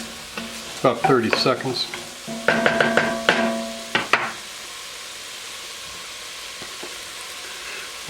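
Garlic sizzles in olive oil in a pan for ribollita, a soft steady frying hiss close by, with a person speaking over the first half before the sizzle carries on alone.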